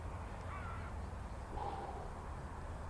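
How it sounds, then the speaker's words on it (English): Jackdaws calling faintly in the distance at dusk in the countryside, a few soft caws rising over a steady background hiss, with no voices. "Jackdaws in the background."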